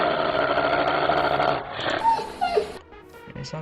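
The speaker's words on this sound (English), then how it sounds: "And it sounds like a dog when you hit it" The Hellhound, a fire-setting dog mob in a Minecraft mod, making dog-like growls and rough snarls, then some whimpering yips. The sounds are close and loud, with no talking.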